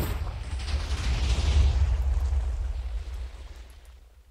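A nuke explodes in a cave in the video game Minecraft, a deep, heavy rumbling blast that swells over the first two seconds and then slowly fades out, loud and alone.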